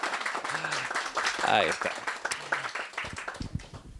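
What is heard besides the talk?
audience applause for a book presentation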